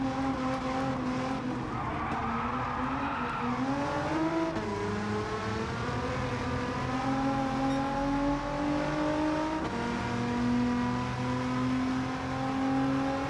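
Nissan Silvia race car with a swapped engine in Gran Turismo 7, braking hard from about 300 km/h and downshifting, with loud, continuous engine tones that fall and jump in pitch across the gear changes, alone without talk.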